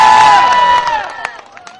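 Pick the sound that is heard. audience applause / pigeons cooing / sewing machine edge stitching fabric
audience applause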